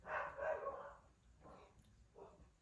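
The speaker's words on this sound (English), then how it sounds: "Y'all just heard my dogs bark." Faint, distant dog barks, a longer first bark followed by two shorter ones after pauses, heard against a quiet background.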